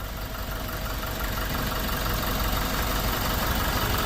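A Toyota Innova Crysta BS-6 diesel engine, freshly overhauled, idles steadily with a continuous, even clatter and low rumble, recorded close up without a microphone and no voices over it.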